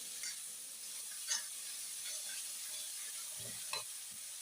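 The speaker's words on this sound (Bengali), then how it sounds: "মশলার সঙ্গে সব মশলাগুলো ভালো করে নেড়ে নেবো।" Spices with salt and turmeric being stirred in a frying pan, a soft continuous sizzle with a few brief scraping strokes, faint and steady with no talking.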